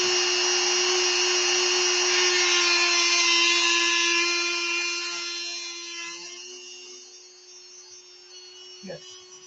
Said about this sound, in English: We need a cutoff wheel. Let's cut us 2 pieces.